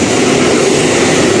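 ÖBB freight train of wagons passing close by, a loud, dense rumbling roar with steady broadband rail noise throughout.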